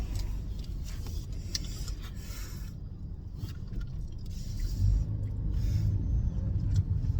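Steady low rumble of car traffic heard from inside a moving vehicle, a continuous road and engine drone that swells slightly toward the end, with no talk over it.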